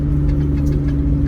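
A Mitsubishi 3000 GT holds third gear through a corner with the pedal only a quarter down, its engine a steady, close mid-pitched hum and rumble with no voices.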